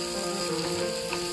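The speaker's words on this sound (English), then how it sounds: "In a skillet, saute your garlic. Add your tomatoes." Garlic and tomatoes sauté in a hot skillet for a quick vegan spaghetti, giving a steady, close, continuous sizzle with no voices.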